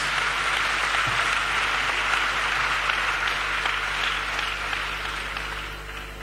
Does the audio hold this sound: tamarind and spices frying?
no